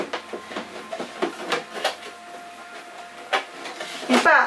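An electric die-cutting machine works through a pass in a rhythmic series of short whirring pulses, close and moderately quiet, ending in a louder mechanical clatter.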